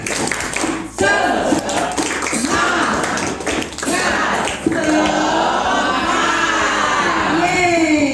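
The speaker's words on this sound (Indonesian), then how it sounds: "Tepuk semangat!" Schoolchildren in an Indonesian classroom perform the tepuk semangat rhythmic clapping chant, loud group claps and thumps in patterned bursts mixed with shouted chanting voices, close and energetic throughout.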